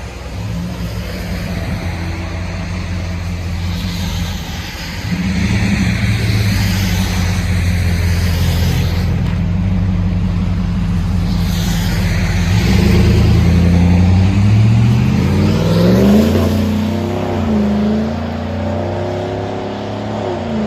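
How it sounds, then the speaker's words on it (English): A loud 5.3L V8 on a 2018 Chevy Silverado with a Black Widow aftermarket exhaust and quad tips burbles and revs, the engine note climbing and surging in pulls, then sweeping upward near the end. "Chevy Silverado, Black Widow exhaust, quad tips out the back."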